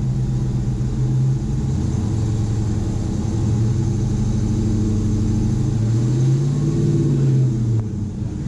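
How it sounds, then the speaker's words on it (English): A Hemi V8 engine with shorty headers and a suspected exhaust leak idles close by, then revs up and falls back in a couple of rising and falling swells, a loud, steady rumbling drone. "So I'm gonna rev it for them a little bit."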